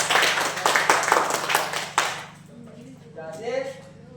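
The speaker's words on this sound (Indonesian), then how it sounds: "beri mereka tepuk tangan yang meriah" Classroom applause for a presenting group, a dense burst of many hands clapping together that runs for about two seconds, then cuts off and leaves quieter room sounds with some faint talk.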